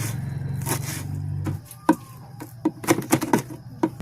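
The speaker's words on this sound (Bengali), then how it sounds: "এখন আমি অল্প কিছু ধনেপাতা কুচি করে নেব" A knife chops fresh coriander leaves on a board, giving a run of sharp close taps and scrapes at an uneven rhythm after a brief low hum fades out.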